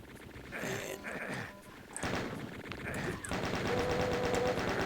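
Chaingunner gunfire in the video game Doom: rapid, loud bursts of automatic fire that grow denser and more continuous toward the end, with other game sounds mixed in.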